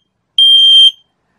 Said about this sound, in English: that's the propane gas alarm.